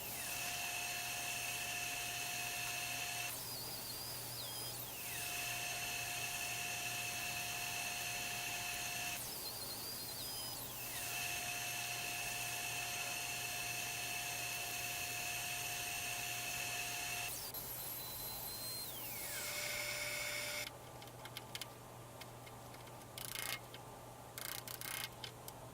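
An old router cuts into wood on a workbench, a loud high-pitched whine with repeated rising and falling pitch sweeps as it passes through the material, then winding down into scattered clatter.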